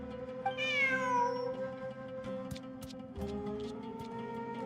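A cat meows in the video game Genshin Impact, one clear rising-then-falling meow up close over a steady game music bed.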